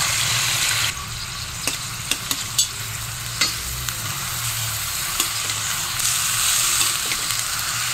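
Adobo frying in a pan, a steady close sizzle with intermittent clinks and scrapes of stirring, a few sharp utensil taps scattered through, alone without talk.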